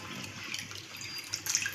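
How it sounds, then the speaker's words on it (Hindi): Water poured from a tap or vessel into a pot of vegetable curry being cooked at home, a steady splashing flow with brighter spatters toward the end, close and moderately loud. "अब इसमें मैं पानी ऐड करूँगी"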